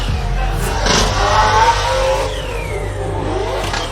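A 4-rotor Nissan S15 drift car at a Formula Drift 2022 event screams loud and close, its engine revving hard and holding high revs before easing off slightly, with a raspy rotary wail.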